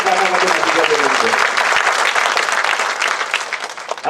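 Loud, sustained audience applause at an event in Mumbai, dense clapping from a crowd filling the whole stretch, with a voice briefly heard near the start before the clapping thins slightly toward the end.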